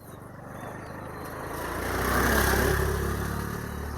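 A motorbike or scooter passes on a small road in Pokhara, its engine growing from faint to a close, steady drone and then fading slightly at the end.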